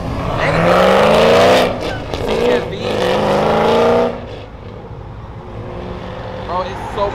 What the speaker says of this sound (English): that Supra is fast as hell.